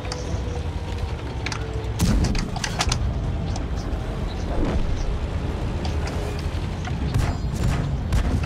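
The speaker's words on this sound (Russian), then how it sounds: "Я ему бейку взорвал." A tank's ammo rack exploding in the online game World of Tanks, a sudden loud boom followed by rumbling engine noise, clanks and further scattered impacts and crackles.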